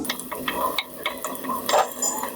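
Dried chili and garlic roasting in oil on low heat, a soft crackling sizzle with irregular light pops and faint stirring ticks, close and continuous.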